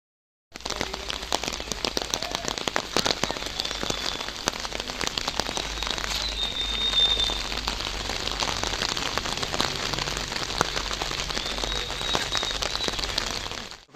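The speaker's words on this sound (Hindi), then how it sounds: "यहाँ पे अभी इतनी तेज़ बारिश हो रही है" Heavy early-morning monsoon rain falls in Darjeeling, a loud, dense, unbroken roar of drops pelting surfaces close by, steady throughout with no voices.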